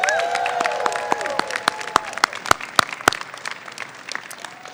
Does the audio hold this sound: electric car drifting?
no